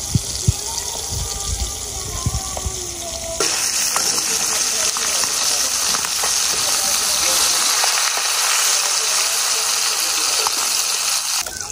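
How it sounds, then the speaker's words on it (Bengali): Crab and fish frying in a pan for a village noodle dish, a steady broadband sizzle with watery crackle that swells louder after a few seconds and continues throughout. "তো এখন আমরা ভাজি করব কাঁকড়া আর মাছ"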